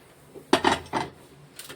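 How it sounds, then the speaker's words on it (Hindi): Dry fruits, including chopped walnuts, roasting in a pan for sattu laddoos are turned over with a utensil. It makes three short clattering, scraping bursts close by, followed by a lighter clink, with no talk. "ड्राई फ्रूट हमारे भून गए हैं, इसे भी अब हम पलट लेंगे"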